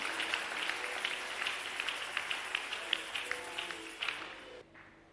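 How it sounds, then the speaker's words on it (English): A church congregation at a Sunday service claps in a steady, fairly quick rhythm, the hand claps close and distinct over a soft background murmur, before breaking off near the end. "Clap for Jesus, clap for Jesus."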